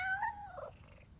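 A cat in PowerWash Simulator 2 gives a short, quiet meow that fades out over a low rumbling purr.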